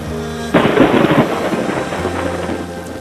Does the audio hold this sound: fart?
no